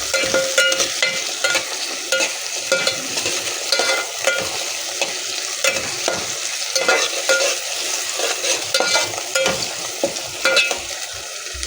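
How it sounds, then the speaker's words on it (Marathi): Masoor dal with tomato being stirred as it fries in a pan, a steady close sizzle with repeated scraping strokes of the spoon throughout. "परत एकदा हलवून घेऊ"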